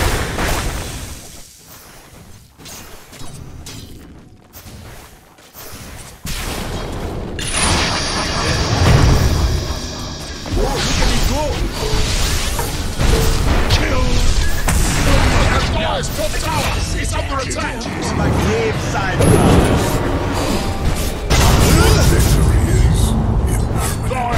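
A Dota 2 match, with the Dire's top tower under attack: heavy in-game combat clatter, booms and mechanical impacts build up after a quieter opening and stay dense and loud, with voices talking throughout.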